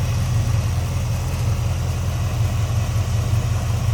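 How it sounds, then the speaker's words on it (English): A 1946 Ford Deluxe coupe street rod with a 350 V8 and turbo 350 automatic idles smoothly nearby, a steady low rumble with an even throb and no revving. "Listen to how smooth that runs. Smooth running. 350 V8 underneath there"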